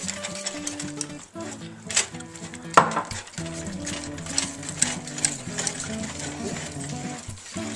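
Eggs beaten by hand in a bowl while cooking a Spanish dish, quick repeated clinks and scrapes of utensil against the dish running steadily throughout, close and fairly busy.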